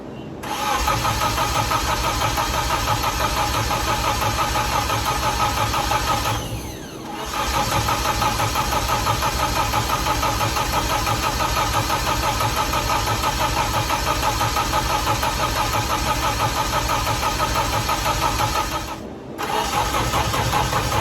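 A freshly rebuilt Nissan KA24DE engine cranks, catches and settles into a steady, loud, close running drone that holds for about twenty seconds, briefly dipping twice, with no voices.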